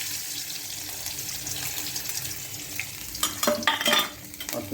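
Ginger and dals frying in a tempering, a soft steady sizzle close by, with a few louder clatters and stirring sounds near the end.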